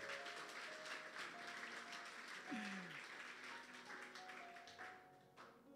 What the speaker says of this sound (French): Est-ce qu'on peut applaudir pour notre papy?